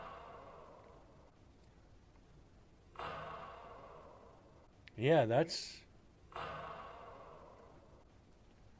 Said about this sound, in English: I think this is like a gasp. It's like an exasperated gasp.